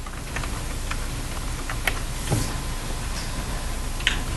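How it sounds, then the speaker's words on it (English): Someone types on a computer keyboard, a sparse run of light, close key clicks at irregular intervals over a quiet room hum, with no talking. "So I'm going to type it in, E-R-I-C."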